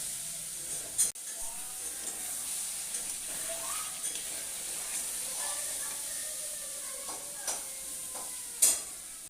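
Chicken curry being stirred in an uncovered pan, a soft simmering sizzle with occasional spoon scrapes and knocks, fairly quiet and close.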